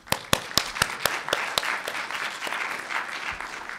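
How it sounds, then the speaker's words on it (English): A conference audience at DrupalCon Nashville breaks into a big round of applause, opening with a few sharp nearby claps and settling into an even, sustained patter of many hands. "let's give a huge round of applause to Drupal community and to each one of us."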